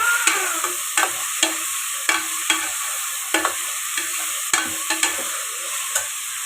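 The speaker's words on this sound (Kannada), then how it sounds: "ಸ್ವಲ್ಪ ಎಣ್ಣೆಲಿ ಡ್ರೈ ಆಗಲಿ" Washed greens frying in a little oil in a pan for sprouted green gram sambar, with a steady soft sizzle broken by repeated sharp scrapes and clicks from a stirring spoon, close and without talk.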